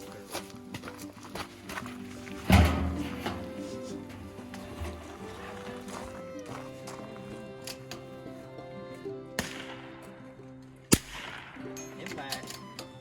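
Sharp .22LR rifle shots at an outdoor shooting match, two distinct cracks spaced several seconds apart over steady background noise, with a louder first report and a later sharp one, people speaking around them.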